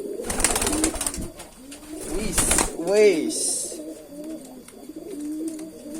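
A domestic pigeon coos close by in repeated throaty, rolling calls, with someone speaking briefly and some handling noise around it.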